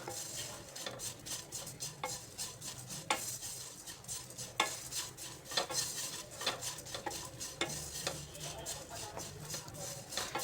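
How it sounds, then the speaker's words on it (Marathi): Prasad is stir-fried in a pan over a medium flame until crispy, with a spoon steadily scraping and clinking against the metal through a soft sizzle. "असे दोन मिनिट आपल्याला मिडियम फ्लेमवरती परतून घ्यायचे छान क्रिस्पी होईपर्यंत"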